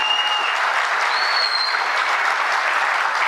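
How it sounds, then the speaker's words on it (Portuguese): An audience at a Brazilian political event breaks into dense, sustained applause that stays loud and even and fills the space. "Uma salva de palmas a ela."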